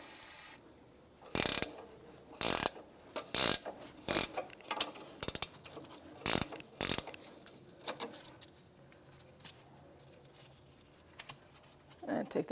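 Ratchet wrench spinning a rusty axle nut off a 2011-2016 Hyundai Elantra CV axle, heard as several short, sharp bursts of clicking spaced through the clip, close to the microphone, with quieter rustling in between.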